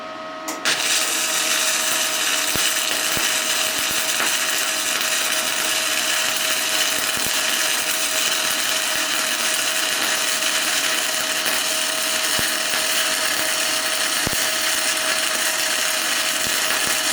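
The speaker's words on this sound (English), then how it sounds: "we're going 220 with the welder to see how well it performs" A Titanium MIG170 MIG welder running on 220 volts lays a weld with a continuous crackling, sizzling buzz that starts abruptly and holds steady, close and loud with occasional sharper pops and no speech.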